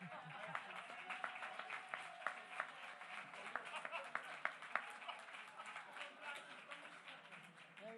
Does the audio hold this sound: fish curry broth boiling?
no